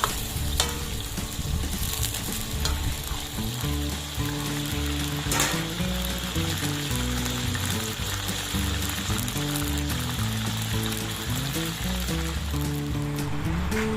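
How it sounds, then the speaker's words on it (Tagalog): Beef sizzles and crackles steadily in a hot pan, close and continuous, with occasional scraping and stirring sounds. "Paprito pa ho natin ng kaunti pa."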